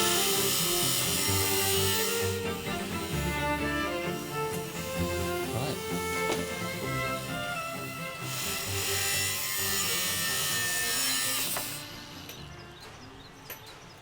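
Steady rasping hand saw strokes cutting a notch in a steel bar, continuous and close, with a faint metallic ring, fading out near the end.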